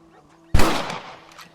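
A single loud rifle shot in Red Dead Redemption, a sharp close crack with a decaying echo tail and faint background tones.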